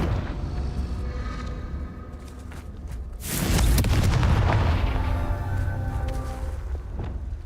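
In the Hogwarts Legacy video game, the Confringo blasting spell sets off a loud, booming explosion mid-battle that swells and then trails into a rumbling tail, with no voices.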